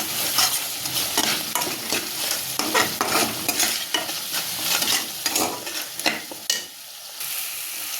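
Masala being stirred in a kadai as it fries in oil that has started to separate: steady scraping and stirring strokes over a continuous bright sizzle, close and fairly loud, with the frying quieting toward the end.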